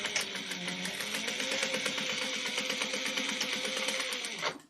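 A sewing machine stitches a fabric pouch, running in a steady, fast mechanical whir close by for about four and a half seconds before stopping abruptly, with no talking.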